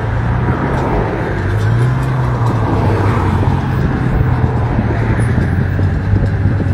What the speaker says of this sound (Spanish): Va a salir un coche de la policía.